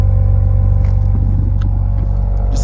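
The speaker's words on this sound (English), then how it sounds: "this exhaust sounds fantastic." A 2022 Audi RS5 Sportback exhaust idles with a deep, loud, throbbing growl up close, a steady low pulsing rumble with a slight lift in revs partway through.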